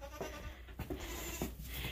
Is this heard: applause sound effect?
no